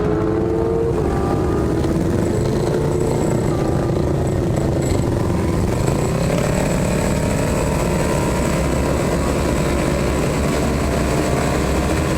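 Racing motorcycles at a track-day new racer school roar off together as the green flag drops for a mock race, a dense, continuous engine drone with rising pitch sweeps around six seconds, steady and loud throughout with no talk.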